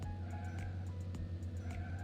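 A truck in the Little Panda's Life game drives along a road, its engine giving a steady, close, mid-level hum that continues throughout with no voices.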